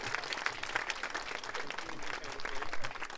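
Audience clapping to welcome former ambassador Michael McFaul at a Ukraine support event, a steady moderate round of applause with scattered whoops, heard from within the crowd.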